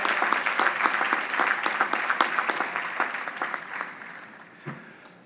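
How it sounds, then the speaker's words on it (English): Queens College commencement crowd gathered outdoors in the campus quad claps in a steady, moderately loud burst that gradually thins and fades out over about five seconds. "let's give her a big, big round of applause."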